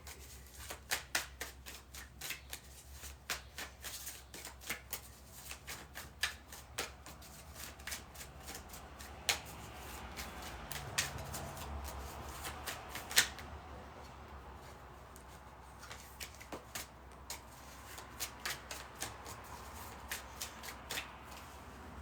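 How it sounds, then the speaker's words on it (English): Tarot-style cards shuffled by hand for a reading, a quiet and continuous run of soft riffling and tapping with irregular crisp snaps, close to the microphone and without speech. "I'm shuffling for her now."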